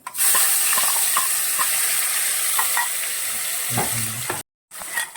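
A ground coconut masala paste hits hot oil with mustard seeds, cumin and curry leaves for a cluster bean rassa curry. A loud, even sizzle is broken by stirring scrapes, then cuts out briefly near the end.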